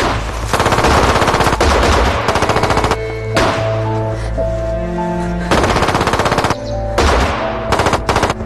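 Loud machine gun fire rattles in long, rapid bursts with brief pauses between them in a battle scene from a Chinese drama set during the war against Japan. Almost no speech is heard.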